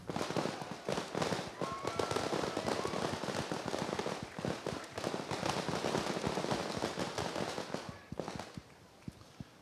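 A dense, continuous barrage of Chinese firecrackers and fireworks popping and crackling rapidly at a congress gala, loud and close, with no pause for several seconds before thinning slightly at the end.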